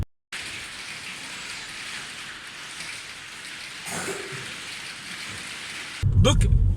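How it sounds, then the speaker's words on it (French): Heavy rain pours steadily onto a veranda roof, a dense, continuous hiss close by, growing louder and more clattering in the final second. "on s'est fait réveiller ce matin par la pluie magnifique hein, sur la véranda"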